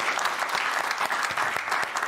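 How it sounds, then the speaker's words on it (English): A television studio audience gives brief, polite applause, an even patter of clapping that holds steady for a couple of seconds with no cheering. "I would call that polite applause."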